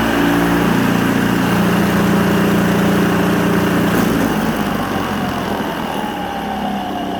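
Steady, loud whirring drone of a Neuton 14 inch electric lawn mower running close by, with a slight dip in pitch midway and no talking.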